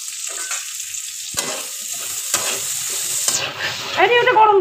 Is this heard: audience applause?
no